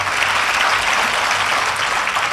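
Dense, steady applause from a large audience at a Gujarati motivational talk fills the whole stretch, loud and close, with no voice over it.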